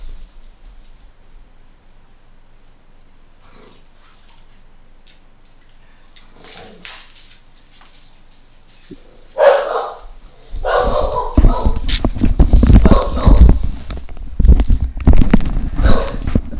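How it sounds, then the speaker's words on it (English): Dog whimpers and yips faintly at first, then breaks into louder barking and scrabbling noise near the end, close by and fairly loud in an indoor room. "What is wrong with you, crazy dog?"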